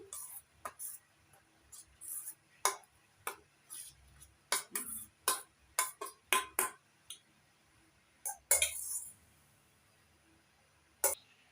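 Raw green mango being mixed with salt and chilli in a bowl, a series of sharp, close spoon clicks and taps against the bowl in an irregular rhythm, with quiet pauses between.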